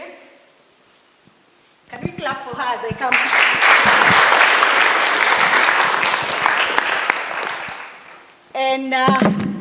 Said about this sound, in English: Can we clap for her as I come?